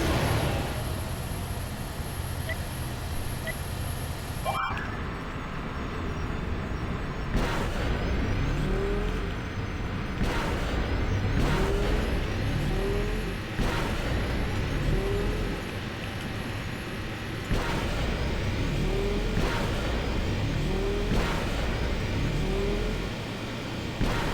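Swoop bike race in Star Wars: Knights of the Old Republic II, with a continuous whining engine roar and repeated whooshing passes and boost surges, loud and close throughout.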